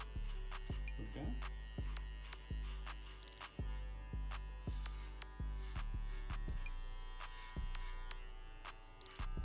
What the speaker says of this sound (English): We're gonna be clipper over combing the rest of the weight to blend it to the top of his hair.